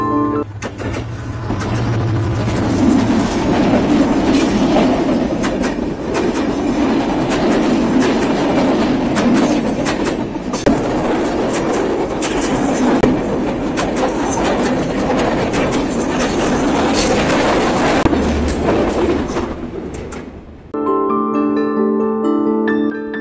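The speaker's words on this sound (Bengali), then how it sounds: "রাজশাহী থেকে ছেড়ে আসা আন্তনগর সাগরদাড়ি এক্সপ্রেস ট্রেনের সাথে এখানে ক্রসিং হবে।" Sagardari Express intercity train passing on the crossing track beside the halted Rupsha Express, a loud continuous rumble of wheels and carriages with clattering rail joints, cutting off abruptly near the end.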